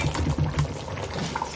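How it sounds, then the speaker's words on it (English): Egusi soup with fried crayfish bubbles in a pot, a short burst of close, busy boiling and gurgling. "So you can see it's boiling very well"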